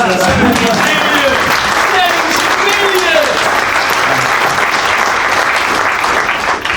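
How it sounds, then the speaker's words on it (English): An audience claps steadily through a business bootcamp talk, loud sustained applause with some cheering and a few voices mixed in, fading slightly at the very end. "Give a round of applause."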